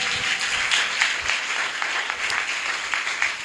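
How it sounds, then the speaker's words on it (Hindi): A church congregation breaks into loud, sustained applause, dense overlapping clapping filling the room at steady intensity with no voices above it. "चलो जोरदार तालियां बजाओ"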